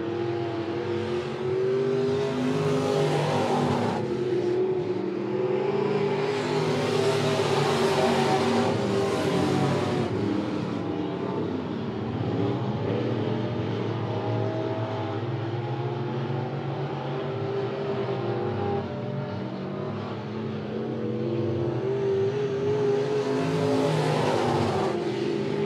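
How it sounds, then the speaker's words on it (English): Race cars in a heat race on the Monett Motor Speedway oval, with bombers, pure stocks and legends classes, heard as a continuous loud engine roar that swells and fades as the cars rev and pass, with no talk. "Garrett Thompson, halfway through heat race number one, your leader now."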